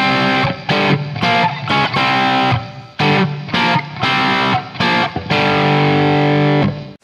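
Distorted electric guitar plays a riff, loud and close, with choppy power-chord stabs separated by short gaps, alone with no talk.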